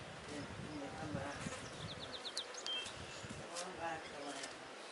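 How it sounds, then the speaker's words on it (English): Flies buzz around outdoors in fields where sandhill cranes forage, with insect whines passing close by, while a person speaks over the buzzing. "the flies are biting me"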